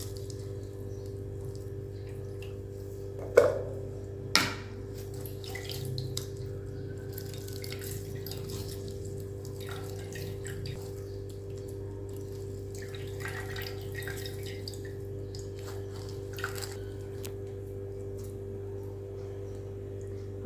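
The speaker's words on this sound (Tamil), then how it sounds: "இப்போ இதை நல்லா சாறை புழிஞ்சு எடுத்துக்கலாம்." Juice wrung by hand from grated amla pulp drips and trickles faintly into a vessel, with a couple of sharp splats early on, over a low steady hum in a quiet kitchen.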